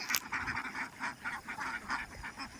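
Ducks on a duck farm give a run of nasal quacks, many birds calling in quick overlapping bursts close by, with brief rustling noises underneath.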